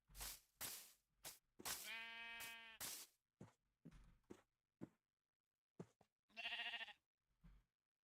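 Sheep bleating in the Minecraft video game, two clear wavering bleats among short thumps and clicks of play, quiet and close with no voices.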